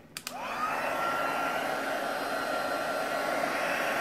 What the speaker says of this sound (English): Go out with the old heat gun again.